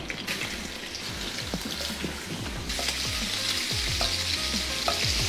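Shrimp and pieces of meat sizzle in rendered pork belly fat, with a steady loud crackle and repeated stirring scrapes in the pan, heard close up without talk.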